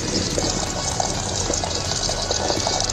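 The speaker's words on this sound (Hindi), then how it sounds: "ये पानी साफ निकल रहा है" Water runs steadily and fairly loudly while flour dough from Pakistan is washed and rinsed by hand, a continuous hissing splash with no talk over it.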